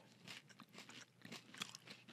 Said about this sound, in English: Oh, it's crunchy.